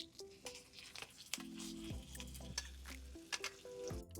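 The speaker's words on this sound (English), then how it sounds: "So we have our steak searing." Steaks searing in oil and butter with garlic and thyme in a pan on an induction cooktop, a soft steady sizzle with faint stirring and scraping, quiet and close, no voices.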